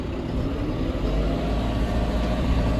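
Tractor engine speeding up as the throttle pedal is pressed, a loud, close, continuous low rumbling drone with steady mechanical churn and no talking.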